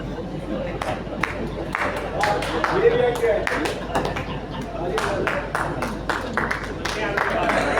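An audience at a Hindi kavi sammelan poetry gathering claps in scattered, uneven bursts, with sharp individual hand claps over a murmuring crowd and voices talking throughout.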